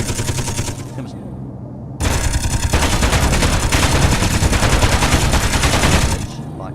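Gatling gun fire in the video game Space Engineers, a loud continuous stream of rapid shots that briefly cuts out and then resumes as an unbroken roaring burst.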